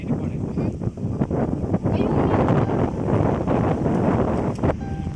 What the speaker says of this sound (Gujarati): પવન પણ બહુ જ છે.